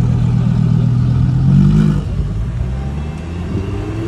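A Nissan GT-R at a Monterey Car Week street gathering rumbles past nearby, its engine swelling louder briefly before easing into a lower, steady drone.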